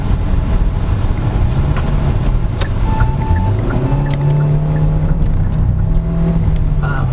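Car engine pulling hard in sport mode through a CVT transmission, a steady droning hum whose pitch rises and holds through the run, loud and continuous with road and wind noise and no talk.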